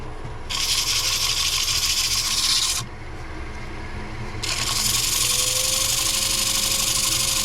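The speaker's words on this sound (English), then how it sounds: "I'll take and sand it and put like a sealer on it" Sandpaper rasps against a spinning chestnut oak workpiece on a wood lathe, a loud steady abrasive hiss in two long passes with a short lull between them, the lathe's motor hum running beneath throughout.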